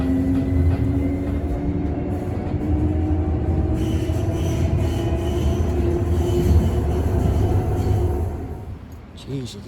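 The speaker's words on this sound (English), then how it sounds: "Train departing. Please hold on." A train pulls away from a station near the Lloyd Center area, with a steady low rumble and rolling rail noise that holds loud throughout and eases off at the end, alongside a voice.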